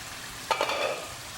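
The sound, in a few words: frying and stirring Peshawari chicken in a kadhai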